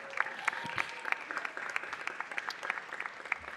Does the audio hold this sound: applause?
yes